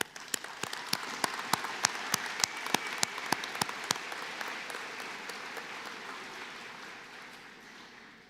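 Audience applause for graduating adult diploma students at a college convocation ceremony, a steady crowd of clapping with some sharp individual claps, sustained for several seconds and gradually thinning toward the end.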